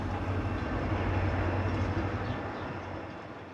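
A freight train being assembled in the Durand rail yard rumbles with a steady low engine drone and faint rolling noise that slowly eases off, heard from a moderate distance.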